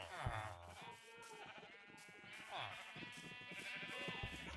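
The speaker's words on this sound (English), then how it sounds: "no Minecraft sheep farm is complete without a Jeb" Sheep bleating in Minecraft on a sheep farm, the game's sheep cries layered with harmonic voices and some background sound, continuing across the short stretch.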